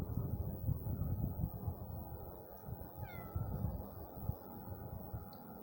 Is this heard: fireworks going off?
no